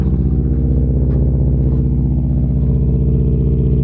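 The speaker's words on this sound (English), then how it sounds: "I'll show you guys the exhaust." A 2002 Subaru Forester with a swapped-in 2003 US-market EJ205 turbo engine idles steadily after a cold start with a low, pulsing exhaust rumble, close and continuous, with a faint rattle on top and no talking.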